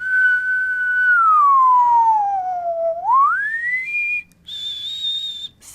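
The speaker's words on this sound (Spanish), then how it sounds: "por ejemplo, un silbido." A single person whistles into a microphone, holding a steady tone that glides down, then sweeps up to a high note and ends in short high bursts, clear and close with no talking.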